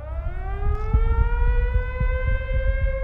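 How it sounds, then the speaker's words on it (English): A civil defense siren sounds a tornado warning in Iowa, its steady rising tone carrying on loudly throughout over a low rumble of background noise. "Sirens went off"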